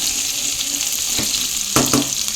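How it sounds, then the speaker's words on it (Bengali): Chopped onion, garlic, ginger and chilli sizzle steadily in a hot pan, a continuous bright hiss with a couple of louder stirring scrapes near the end, no voices. "তো পেঁয়াজ, রসুন, আদা কুচি একবারে দিয়ে দিলাম।"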